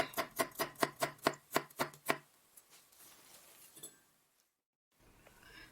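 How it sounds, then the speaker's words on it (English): A knife slices garlic cloves on a chopping board in a quick run of about nine sharp, evenly spaced taps, then a few softer scattered taps before it falls silent. "Prepare 3 garlic. Slice garlic."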